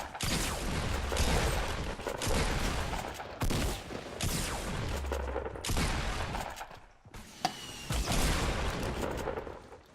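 Repeated bursts of shotgun blasts and rapid gunfire during a close-range Fortnite Battle Royale fight, loud and dense, coming in several clusters with brief gaps between them.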